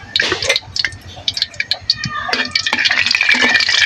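Black cumin seeds crackle and spatter as they temper in hot oil in a wok, giving bursts of sharp, irregular pops that build into a denser sizzle near the end.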